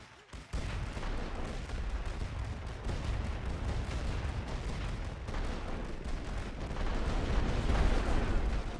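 Artillery and rifle fire boom across a World War One Western Front battlefield in a strategy game, with layered bursts and a rolling barrage that opens after a brief lull and swells toward the end.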